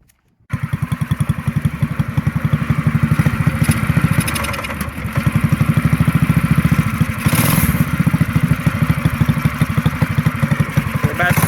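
A custom-built gas scooter engine starts and runs steadily while being ridden, a loud, close, rapid buzzing putter with slight revving changes throughout.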